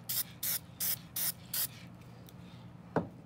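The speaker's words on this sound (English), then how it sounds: "this crystal clear coating that we can spray on, and when we spray this, all the black pen is going to come back to the forefront," Five short, evenly spaced bursts from an aerosol can of crystal clear coating sprayed onto a colored pen, fairly quiet and close, followed by a pause and a single faint click.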